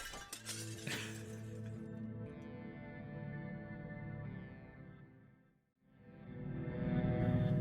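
A glass pane shatters in a loud crash with tinkling shards, followed by a long ringing, sustained tail, a brief silence, then a swelling rumble; no one speaks.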